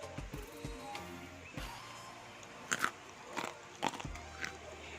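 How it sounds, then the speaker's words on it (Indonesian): Freshly fried peanuts with kaffir lime leaves are scooped and shaken, giving a series of sharp, irregular crunchy rattles and clicks at close range. The bursts are separated by quieter gaps, with no speech. "Tuh kan kriuk banget ya teman-teman, padahal kacangnya masih panas."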